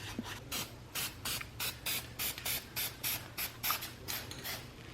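Spray painting car parts with a spray gun gives a run of about a dozen short, evenly spaced hissing bursts, close and fairly loud, with quiet gaps between them.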